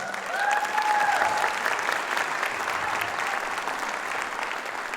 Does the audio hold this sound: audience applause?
yes